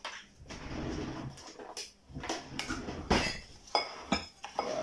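Muffin batter ingredients are stirred together with flour in a bowl, giving uneven scraping and stirring with sharp clinks of utensil against the dish, close and moderately loud with no talking.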